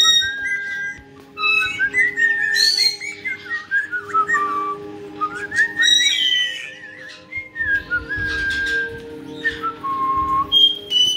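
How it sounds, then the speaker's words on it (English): A pet bird whistles right beside the ear, a steady stream of bright, sliding melodic whistles and chirps running continuously for several seconds, with no talking over it. "And Sunny's on my shoulder, whistling in my ear."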